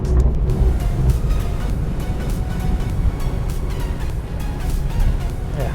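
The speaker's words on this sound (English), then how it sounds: "The diesel's quite noisy" Steady diesel engine drone and road rumble from a 2020 BMW 3 Series G20 M Sport on the move, continuous and fairly loud without any talk over it.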